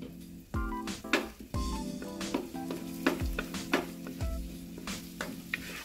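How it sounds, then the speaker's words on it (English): Dried chili paste frying in a pan with belacan shrimp paste, a soft continuous sizzle broken by repeated scraping stir strokes and low thuds about once a second, close and fairly quiet. "Add dried chili paste."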